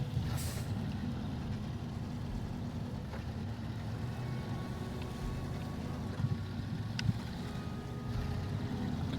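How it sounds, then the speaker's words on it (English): An old diesel truck idling with a deep, steady, rumbling big-block-V8-like engine note, loud and continuous, with a few brief clanks and hisses over the drone. "it didn't make it sound like a diesel, but it sounds more like an old big block V8"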